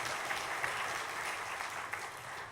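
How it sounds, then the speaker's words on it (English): Audience applause at the opening of a sustainable infrastructure development symposium in South Africa: a faint, steady wash of many hands clapping, heard from a distance and holding evenly for a couple of seconds. "I believe this needs a big round hand of applause toward"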